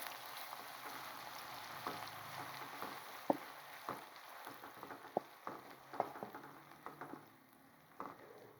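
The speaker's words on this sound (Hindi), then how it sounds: "अब हम इसके अंदर डाल देंगे चॉप किया हुआ प्याज। इसको अच्छे से ब्राउन कर लेंगे।" Chopped onions frying and browning in a pot, a soft continuous sizzle with scattered clicks and scrapes of a spoon against the metal, fairly quiet.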